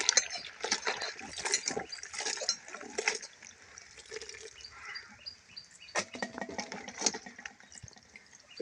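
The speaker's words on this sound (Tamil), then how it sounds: "இந்த மாதிரி தண்ணி பைப்பில் ஊற்றி நல்லா கழுவி எடுத்து விடுவேன்" Water from a pipe splashes over freshly gathered natural mushrooms as they are washed in a village, irregular pouring and splashing with drips and faint clatter, fairly quiet and close.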